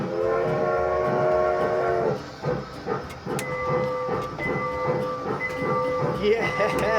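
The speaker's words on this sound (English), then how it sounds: "I think I hear a train whistle blowing." A train at Schellville, a village attraction, blows its steam whistle in several sustained tonal blasts over hissing and rail clatter, with people talking nearby.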